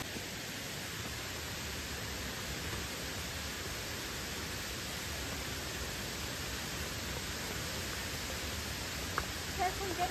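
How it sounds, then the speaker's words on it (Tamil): A waterfall on a hiking trail in Chiang Rai rushes steadily, a dense, even wash of white noise that holds constant throughout with no voices. "வாட்டர் ஃபால்ஸ் ரீச் ஆகிட்டோம்."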